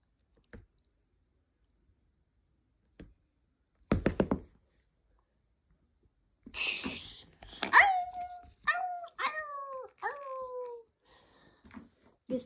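A dog whimpers and gives several short rising whines and yelps at night during a thunderstorm, close and fairly loud, following a few isolated knocks amid otherwise quiet surroundings.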